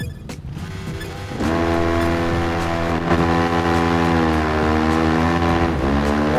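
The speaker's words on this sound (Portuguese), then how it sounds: "agora vamos pôr essas motos para correr" Motorcycles in the 300–400cc class, including a single-cylinder Husqvarna, a KTM and an R3, race a 1 km drag in the video game Ride 3, with loud engine whine climbing in pitch through repeated gear changes and no voices.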